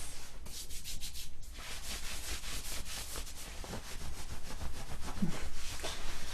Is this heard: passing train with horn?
no